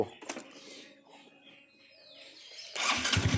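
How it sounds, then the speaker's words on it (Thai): A white and red 2017 Honda Wave 125i motorcycle is started with the electric starter, and the engine catches and settles into a close, loud idle after a stretch of quieter sounds. "เดี๋ยวสตาร์ทเครื่องให้ดู"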